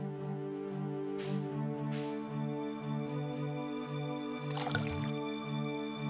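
A watering can tips water onto crops in the farming game Stardew Valley, with short splashing bursts over a steady tonal background music bed, followed by a brighter gurgling pour near the end.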